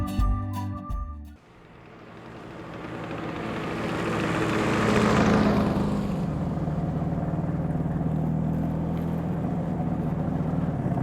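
A motorbike engine swells from a low rumble to a louder, closer roar after a brief clatter, then holds a steady, droning run for the rest of the stretch.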